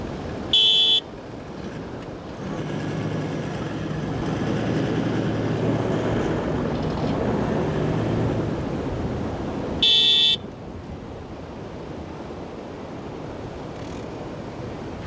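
Two short car horn toots sound, one at the start and one near the ten-second mark, between them a loud steady engine drone from a vehicle towing a caravan up a sand dune, with wind noise throughout.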